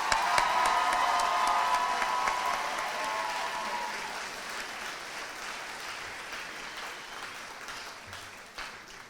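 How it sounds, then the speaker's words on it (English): A crowd at a 4-H opening ceremony applauds loudly, the clapping starting strong and gradually fading over several seconds, with a few cheers mixed in. "let's give one more wild round of applause"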